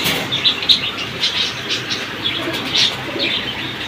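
A silver pigeon coos in a series of soft, repeated calls, fairly close, with a steady hiss of background noise and no talk.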